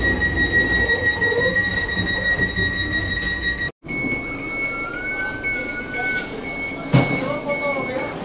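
A Vande Bharat Express rolls into Katihar Junction with a continuous rumble of wheels on track and thin, high squeals of braking, a sharp clank partway through, while people talk over the noise.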